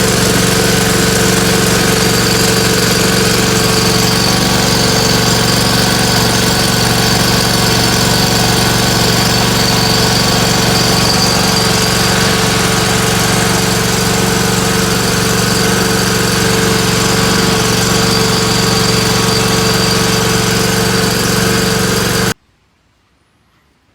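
A small engine with its flywheel just reinstalled runs loud and steady at a constant speed with a buzzing, vibrating drone, then cuts off abruptly near the end.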